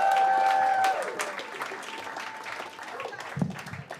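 Applause from a comedy club audience for a comedian taking the stage, steady and moderately loud at first and then thinning out behind a host's amplified voice.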